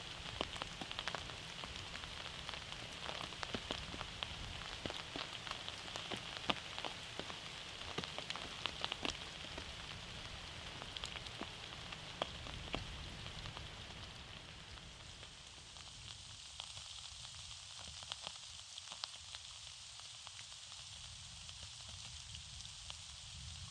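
Heavy rain pours steadily in a mountain forest during the red deer rut, a dense continuous patter with scattered sharper drops striking nearby surfaces, unbroken throughout.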